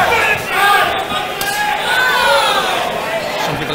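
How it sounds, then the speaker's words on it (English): A crowd at a live fight event keeps up a loud, steady roar of shouting and chatter urging a finish, with commentators talking over it. "some people in the crowd calling for finishing"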